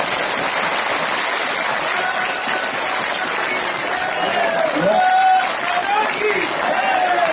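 Dense, steady crowd applause fills a large political gathering with BJP President J P Nadda, a continuous wash of clapping that holds at an even level throughout, with cheering voices and whistles rising over it.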